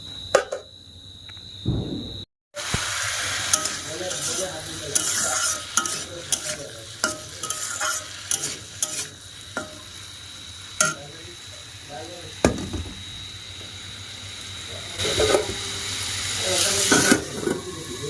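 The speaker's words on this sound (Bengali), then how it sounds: "দেখো শুকনো লঙ্কা ভাজা।" Dried red chillies frying in a home kitchen pan, a close crackling sizzle with frequent sharp ticks and scrapes of stirring, a brief dropout early on, steady throughout.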